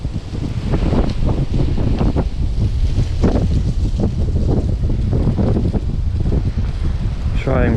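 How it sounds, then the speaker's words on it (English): Strong outdoor wind buffets the microphone on an autumn nature walk, a constant loud rumbling roar with gusty surges throughout and no speech. "Trying very carefully with the wind blowing."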